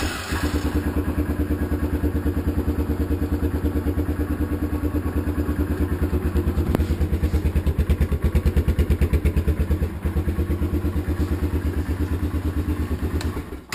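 A four-wheeler ATV engine idles steadily right after starting, close and loud, with a rapid, even chugging pulse that holds throughout and swells slightly midway.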